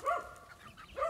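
Farm dogs barking, two short bursts at the start and end of a brief moment, moderately loud with some distance and no talk over them.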